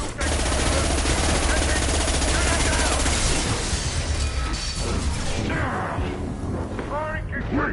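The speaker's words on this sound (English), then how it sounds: "firing concussive shot" Heavy battle noise from Mass Effect 2 fills the scene, with sustained loud gunfire and crashing impacts, a voice talking amid the chaos, and the barrage easing toward the end.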